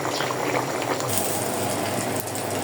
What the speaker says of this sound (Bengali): এই যে এখানে হচ্ছে ইলিশ মাছের ডিমগুলো ভেজে নিছি।